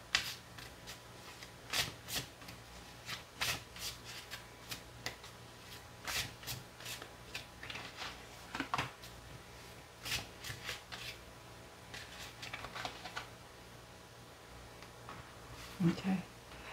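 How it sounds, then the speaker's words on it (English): Tarot cards being shuffled, handled and laid out on a table, a series of crisp flicks and soft slaps at an irregular rhythm, close and fairly quiet, with low talking in the background. "I'm going to go back and clarify these cards after I get everything laid out."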